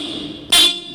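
A BMW G310GS motorcycle horn gives one short, loud, close honk of about a fifth of a second, heard against steady background noise.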